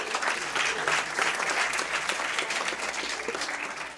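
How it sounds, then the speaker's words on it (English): Audience at a school district board meeting gives sustained, even applause for a girls' varsity team, the clapping staying strong with only a slight fade near the end. "let's give our girls varsity another big round of applause"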